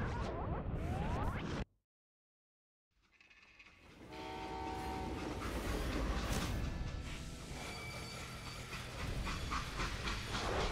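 A freight train in the western game Call of Juarez Gunslinger rumbles along with a hissing, clattering roar, broken by a sudden gap of near silence before the steady loud rolling returns for the rest of the clip.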